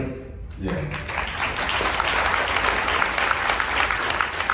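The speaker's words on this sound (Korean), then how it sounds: "청년으로 보이는 사람도 같이 박수를 치네요" Audience at a Korean-American forum bursts into applause after a short pause, building quickly into sustained, fairly loud clapping that carries on to the end, with a speaker's voice faintly heard under it.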